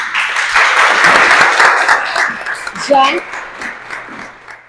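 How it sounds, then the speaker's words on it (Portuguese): A workshop audience breaks into loud applause, a dense burst of clapping that swells quickly and then fades, with a voice briefly heard near the end. "Palmas."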